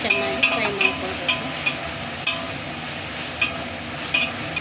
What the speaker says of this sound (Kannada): ಈ ರೀತಿಯಾಗಿ ಚೆನ್ನಾಗಿ ಫ್ರೈ ಮಾಡ್ಕೊಳ್ಬೇಕು.